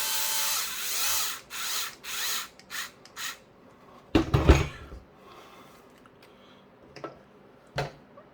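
Power drill snugging screws into the rear suspension of a Traxxas Slash 2WD RC car kit, with several short whirring bursts, a louder rougher run in the middle, and a couple of brief taps later, close and clear.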